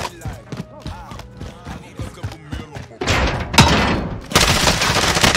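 Gunfire in the battle royale game Warzone, with scattered thuds and voices in the first part, then loud, close bursts of shooting that fill the remainder with sharp, heavy blasts.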